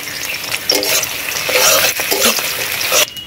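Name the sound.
thick-cut onions frying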